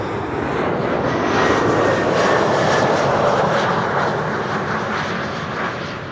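Jet airliner engines roar loud and close at Amsterdam Schiphol Airport, a dense broadband rush that swells slightly mid-way and then eases off a little, with no voices.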